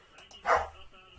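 A pet dog lets out a single loud bark at close range, a short sharp burst standing out against a quiet room during a live baseball reaction stream.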